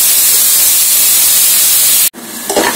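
Mutton pieces frying in oil in a pan, a steady loud sizzling hiss that cuts off abruptly, then resumes more softly with crackling bursts.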